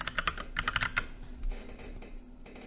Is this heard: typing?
yes